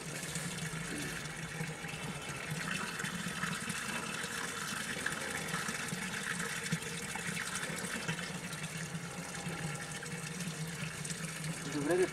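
Water runs from the spout of a stone village fountain, a steady, continuous gushing splash heard up close for about twelve seconds with little change.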